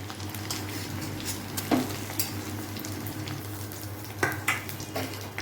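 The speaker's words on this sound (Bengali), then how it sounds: "এখন আলুগুলো ভাজা হতে থাক" Steady frying sizzle of potatoes in hot oil, a continuous crackling hiss with a couple of brief utensil clinks, no voices.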